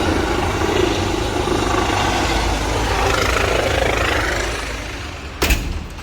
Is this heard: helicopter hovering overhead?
yes